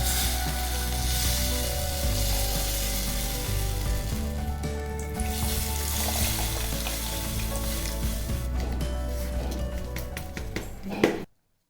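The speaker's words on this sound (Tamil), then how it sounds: "தக்காளி வதங்கினதும் புளி தண்ணியை அதில் விட்டுக்கலாம்" Tamarind water poured into a hot pan of sautéed tomatoes sets off a loud, steady sizzle and bubbling, close up, continuing without pause until it cuts off abruptly.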